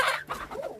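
A rooster gives a few short, close clucks in quick succession in a backyard coop setting, with no speech over them.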